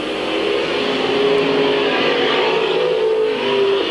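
Stock race cars racing at Midvale Speedway, a loud continuous engine roar with revving pitch shifts as the pack runs by, no voices over it.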